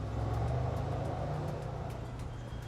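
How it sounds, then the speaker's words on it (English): A Mercedes-Benz C63 engine rumbles outdoors with a steady, loud low-pitched drone that swells briefly near the start, then holds and eases slightly over a few seconds, with no talking. "If there's one thing they got right, this car, is that engine sound"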